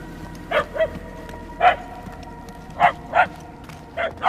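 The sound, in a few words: dogs barking in Guardians of the Galaxy video game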